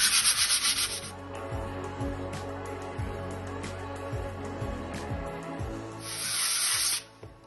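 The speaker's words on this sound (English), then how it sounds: "I've got some 120 sandpaper" Hand sanding wall filler over a patched nail pop with 120 grit sandpaper, heard as rhythmic back-and-forth scratchy rubbing strokes, close and clear, with no talking.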